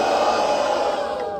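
Crowd at a rap battle shouting and cheering for a rapper, a short dense roar of many voices held loud for a moment.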